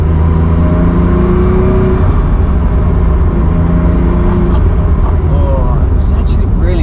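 A car with new KW suspension drives along with a steady, loud engine drone and road rumble inside the cabin while a voice talks over it.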